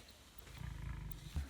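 A lion in a South African reserve lets out a single deep, rumbling roar, faint and distant, lasting under a second against a quiet open-air background.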